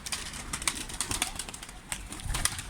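A pigeon is handled close to the microphone, with soft rustling and brief flutters of wings in quick bursts, fairly quiet and with no clear cooing.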